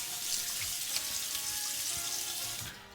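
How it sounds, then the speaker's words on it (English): Cold water runs steadily from a bathroom tap for rinsing the face after shaving, a close, even hiss that tapers off at the end, with no talking. "Putting cold water on."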